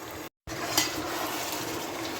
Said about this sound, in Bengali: এবার এটাকে 5-7 মিনিট মতন ভালো করে কষতে হবে